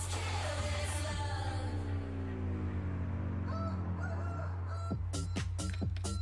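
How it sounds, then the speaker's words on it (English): A rooster crow opens a remixed electronic dance track. The drawn-out crow rides over a heavy, steady bass hum, and then sharp percussive beats come in. "it started off with like a rooster crow, and then it went into like this electronic."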